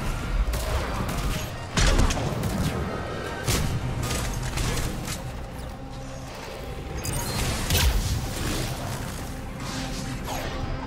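Combat in Mass Effect 3 with bursts of gunfire, impacts and crashes, loud and close, arriving in irregular volleys over a continuous rumbling background of game sound effects.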